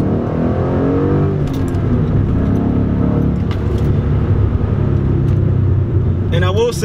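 A Ford Mustang accelerating hard in second gear into a turn: a loud, steady engine rumble with rising harmonic drone, cabin rattles and jingling keys, and a brief squeal-like sweep at the end, heard from inside the car.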